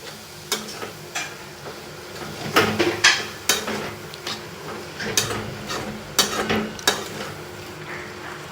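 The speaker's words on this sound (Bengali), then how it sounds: "এবার আমি ভালো করে নাড়িয়ে চাড়িয়ে নিলাম।" A spoon scrapes and clinks against a pan while chicken keema masala with yogurt is stirred, a series of sharp irregular metallic knocks over a faint background sizzle, close by.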